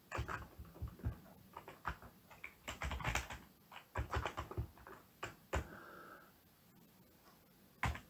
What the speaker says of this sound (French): je vais taper une suite numérique, peu importe laquelle